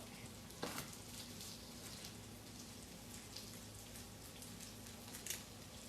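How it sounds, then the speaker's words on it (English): Chilies, onions, garlic and spices fry in a pan with a steady, close crackling sizzle throughout, with a couple of brief louder pops and no voices. "the chilies and the onions and all the spices are cooking over there"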